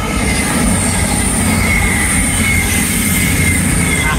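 A train rolls past on the seawall railway at Teignmouth, a loud, steady rumble of wheels and carriages with high squealing tones over it, close by throughout.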